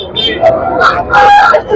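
A rooster crows partway through at a rooster market, its drawn-out call rising over people talking nearby.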